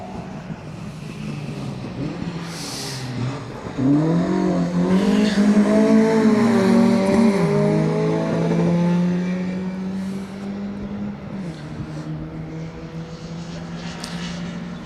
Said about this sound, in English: with Nick Wilkins, Josh Humphreys in the Golf GTI, just getting out of the way of the BMW